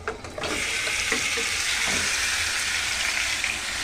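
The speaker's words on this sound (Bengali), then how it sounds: "চলো মাংসটা দিয়ে একটু ভাজা ভাজা করবো" Meat drops into a pan of browned onions and bursts into a loud, even sizzle that holds steady and close, a dense hiss with faint stirring underneath and no talking.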